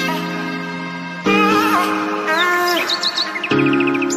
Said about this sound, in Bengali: আমরা কথা না বললে কোনো সাউন্ড নেই পাখির ডাক ছাড়া